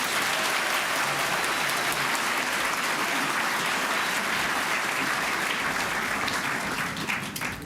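Sustained applause from a large audience at a Kenyan diaspora gathering in London, steady and dense throughout, easing slightly near the end, with faint voices mixed in.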